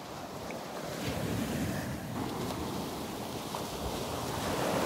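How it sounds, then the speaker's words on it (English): Continuous wash of ocean surf on Vanderbilt Beach with wind buffeting the microphone, a broad steady roar swelling slightly toward the end. "I'm just tuning everything out and listening to the waves."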